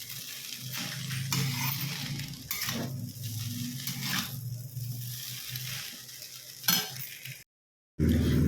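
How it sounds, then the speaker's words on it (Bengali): Capsicum frying in a pan with turmeric and salt, a steady sizzle with occasional stirring scrapes running throughout, close and moderately loud, cutting out briefly near the end. "আর ক্যাপসিকাম একসাথেই ভাজতে দিয়ে দিয়েছি, হলুদ আর নুন দিয়ে ভাজতে বসিয়ে দিয়েছি"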